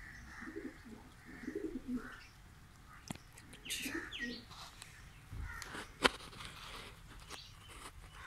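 Racer pigeons in a breeding loft peck at grain and coo softly, with low cooing phrases, scattered taps and a flutter of wings, all faint and close with no one talking.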